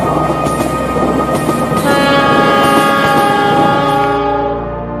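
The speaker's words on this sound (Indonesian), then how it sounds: "Akhirnya bunyi kereta pun terdengar." A locomotive-hauled train approaching Pasar Senen station in Jakarta, not slowing: a loud, close rumble of wheels and cars with sustained horn tones, swelling, then thinning out toward the end.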